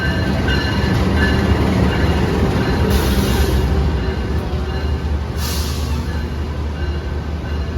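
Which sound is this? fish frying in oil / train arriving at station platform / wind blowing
train arriving at station platform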